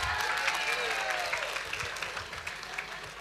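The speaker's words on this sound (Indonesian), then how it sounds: "Yang setuju tepuk tangan." Audience at a church gathering clapping together in a sustained, dense wash of applause that holds steady and eases slightly toward the end, with faint voices mixed underneath.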